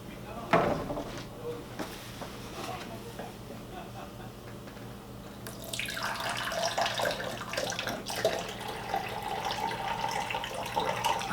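Max Mileage catalyst liquid pours through a spout with a steady splashing trickle that starts partway in and runs to the end, close and fairly loud over a quiet room, after a few faint knocks and handling clicks.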